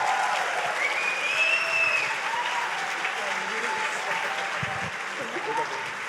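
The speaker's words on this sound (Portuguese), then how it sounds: "Vamos aplaudir ao Senhor Jesus por esse homem de Deus" A church congregation applauds a visiting preacher with sustained, fairly dense clapping, while a voice speaks over it and sustained tones from music or a microphone rise in the background.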